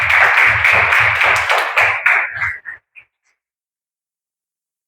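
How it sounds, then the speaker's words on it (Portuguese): A church congregation claps together in a dense, steady burst of applause that fades out after about two and a half seconds, leaving near silence. "Vamos aplaudir o Senhor Jesus Cristo?"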